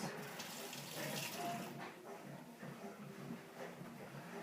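Water runs steadily from a tap to wet a spinning-top string, a close continuous splashing hiss lasting the whole few seconds with slight shifts in flow and no talking.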